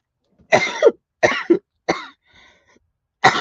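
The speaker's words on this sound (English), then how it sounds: "I'm half coughing and half sneezing" A person nearby gives several sharp coughs mixed with sneezes, about four short explosive bursts separated by brief pauses in a quiet room.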